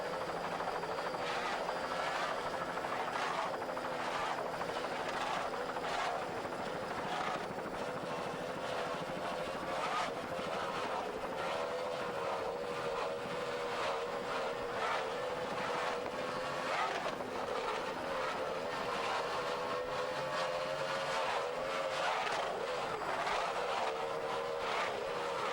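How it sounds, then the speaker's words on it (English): Powerboats with 200 horsepower Mariner outboard engines race at the 1994 Key West Superboat Grand Prix, making a continuous loud, high-revving engine roar that holds steady for the whole stretch with no voices. "Those 200 horsepower outboards, Mariner outboards, doing their job in this 1994 Key West Superboat Grand Prix."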